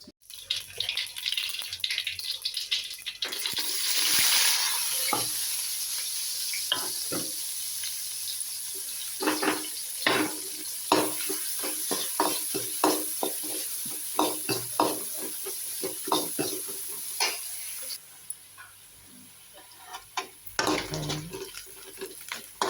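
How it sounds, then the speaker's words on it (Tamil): Chopped onion and dried red chilies sizzle in hot oil for a South Indian tempering, a steady crackling hiss with repeated stirring scrapes and clinks, no talking. "கொஞ்சம் வெங்காயமும் வரமிளகாய் மட்டும் தான் தாளிக்க எடுத்து வச்சுருக்கேன்."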